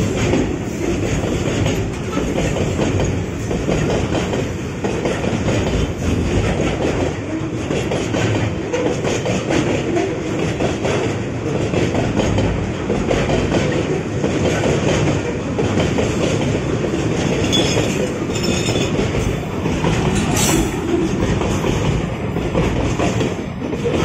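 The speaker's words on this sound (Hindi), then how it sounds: "ये वीडियो 33 बिजनेस एक्सप्रेस की है" A 33 Business Express train passes on the rails with a loud, steady, continuous rolling clatter of wheels and carriages, close by and without any talk.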